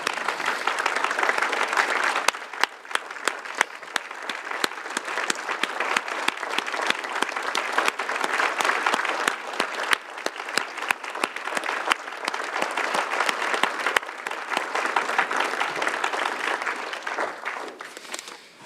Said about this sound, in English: can you join me in giving them a huge round of applause